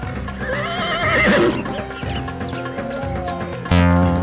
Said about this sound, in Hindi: तभी एक छोटा सा घोड़ा भागकर आता है और पेड़ की जड़ से टकराकर कद्दू पर गिर जाता है।